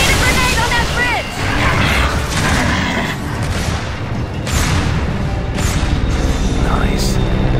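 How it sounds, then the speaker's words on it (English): A grenade blast on a bridge in the video game Gears of War 3, with loud, dense booming and rumbling combat noise that runs almost continuously, dipping briefly a few times. "We need a grenade on that bridge!"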